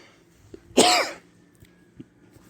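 A single harsh cough from a man, loud and close, lasting about half a second, with a few faint clicks and soft room noise around it and no talk.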